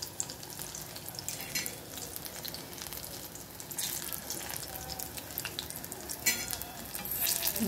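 Chilli bhaji frying in oil, a soft, continuous sizzle with occasional stirring and turning noises, fairly quiet and without talking.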